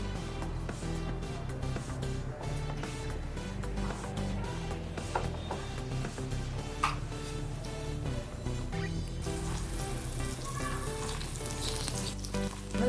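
Pieces of boiled egg fry in ghee in a pan for an egg ghee roast, giving a constant, fairly loud sizzle throughout under a bed of background music.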